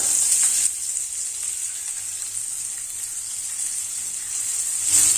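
Hot oil sizzles and crackles steadily as chopped small onions fry for green gram curry, close by, with a brighter hiss at the start and again at the end.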